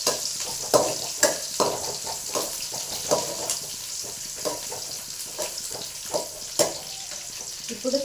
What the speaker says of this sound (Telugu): ఇప్పుడు ఎర్రగడ్డ పెద్ద సైజు ఎర్రగడ్డ వేసుకొని కలుపుకున్నాను.